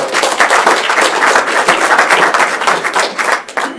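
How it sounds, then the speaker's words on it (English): Audience members at a business meeting about apps deliver a lively round of applause, sharp individual claps merging into a thick, slightly uneven patter that thins near the end. "So again, big round of applause"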